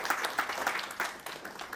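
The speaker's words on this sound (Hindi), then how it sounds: "ताली बजाकर प्रभु की महिमा करो।" A congregation at a wedding service claps hands in praise, a fairly faint, roomy patter of many hands with a few distinct sharper claps in a loose rhythm and no talk.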